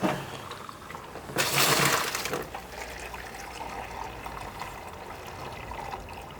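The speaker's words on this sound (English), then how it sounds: "We're now putting the mash water in, which is 8 litres" About 8 litres of mash water gushes into a home brewing vessel on a three-vessel red ale setup. A loud splashing surge lasts roughly a second, then settles into a steady, softer rush of water with no voices.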